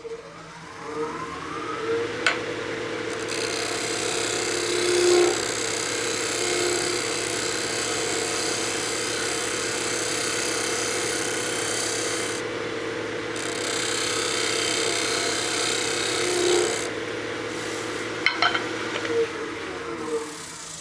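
A wood lathe turning a utility box hums with a steady mechanical drone throughout, with a few sharp scraping ticks as the tool meets the spinning wood.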